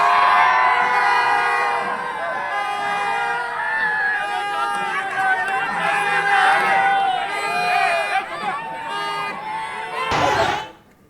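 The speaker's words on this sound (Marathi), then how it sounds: "विजयी उमेदवाराला देखील सोबत घेऊन हा जल्लोष साजरा केला जातो" Party workers in Uran celebrate an election winner with a loud, dense crowd roar of cheering and shouting, joined by whistles or horns, which stays steady for about ten seconds before cutting off abruptly near the end.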